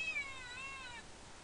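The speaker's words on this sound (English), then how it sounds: "there was a cat in here" A cat meows in the horror video game The Crooked Man: a thin, high, wavering cry that rises and falls over a steady hiss of low background ambience, with no talking.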